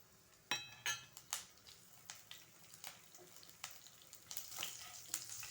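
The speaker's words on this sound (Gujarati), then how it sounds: "તેલ થઈ ગયું છે તો એમાં આપણે જીરું એડ કરીશું આ હિંગ છે હિંગ એડ કરીશું આ લીલા મરચાં છે એ એડ કરીશું" Cumin seeds, asafoetida and green chillies drop into hot oil, a soft sizzle and crackle broken by several sharp clinks of a spoon against the pan, close but quiet.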